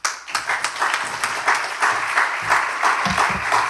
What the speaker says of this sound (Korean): 이제 목사님 나오실 때 한 번 더 박수하겠습니다.